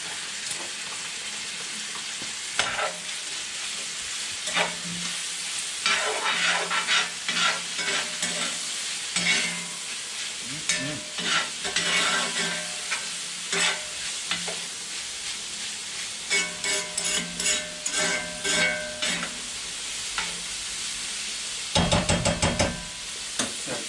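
Onions and garlic with Italian seasoning and paprika sizzle steadily in a pan while a utensil scrapes and stirs in irregular bursts, close and fairly loud, with no talking.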